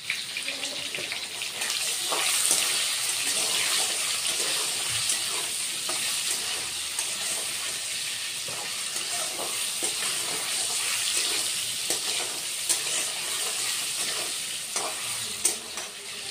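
Potatoes frying in a pan, salted, with a continuous hissing sizzle and occasional stirring scrapes and pops, close and fairly even throughout.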